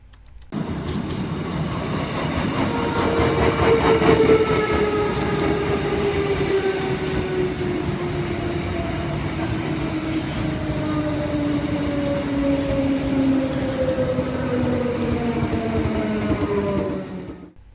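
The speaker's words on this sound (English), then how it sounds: "35 3-car trains in service, however they are commonly found in 6-car consists." Brisbane commuter train in a train simulator, a steady rumbling run with rising and falling motor whine and faint wheel noise, sustained and loud for the whole stretch before cutting off, with no talk.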